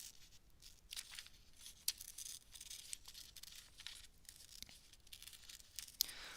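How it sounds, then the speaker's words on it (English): Scissors snip and crinkle through paper in short, irregular close-up cuts for a small handmade affirmation book, quiet and alone with no talk. "So let's do a little fussy cutting."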